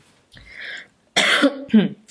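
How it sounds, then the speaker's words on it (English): Two or three harsh coughs close to the microphone, with a throaty clearing sound between short pauses. "I'm so sorry for coughing all the time."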